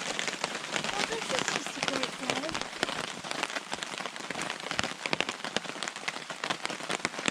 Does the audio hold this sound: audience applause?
no